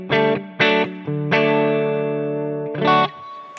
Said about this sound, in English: foot switch 4 is gonna add in an overdrive just after the spring reverb